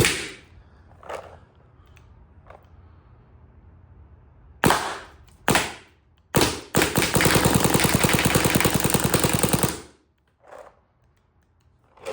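A black 1962 Corrado G6r poppet cap gun fired with a few sharp separate cracks, then a rapid rattling burst of shots lasting several seconds, loud and close with no talking.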